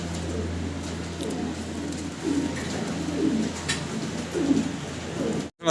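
Fancy pigeons coo in a few soft, repeated rolling calls over a low, constant background hum, with no talking.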